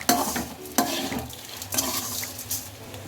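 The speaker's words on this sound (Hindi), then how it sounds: "अब हम धनिया डालेंगे, हरा धनिया डालेंगे काट के, और सबको मिक्स कर देंगे।" Poha with chopped green coriander stirred in a pan, several scraping spatula strokes at irregular intervals over a soft sizzle, close and alone.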